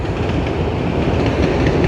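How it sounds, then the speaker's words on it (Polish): A train rolls past close by, a loud, steady broadband rumble with rail clatter filling the whole stretch, alone without voices. "jedzie właśnie pociąg i pewnie nie będzie tego słychać"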